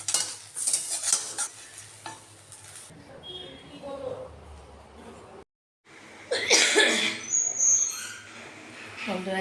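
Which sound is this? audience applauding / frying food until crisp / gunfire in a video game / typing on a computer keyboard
frying food until crisp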